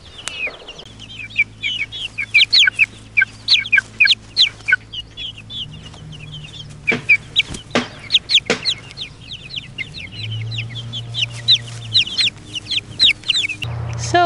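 Month-old chicks cluck and peep in quick bursts of short, bright calls, close and busy, with pauses between flurries and occasional low knocks and rustles underneath.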